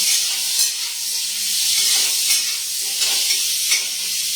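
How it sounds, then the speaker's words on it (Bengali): Pointed gourd (potol) frying in oil in a home kitchen, a continuous loud sizzle with soft stirring scrapes rising and falling, no talking. "দাঁড়াও, পটল ভাজি এখন।"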